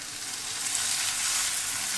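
Oily flatbread (youbing) fries in plenty of oil in a pan, a steady, bright, close sizzle that holds evenly throughout with no voices.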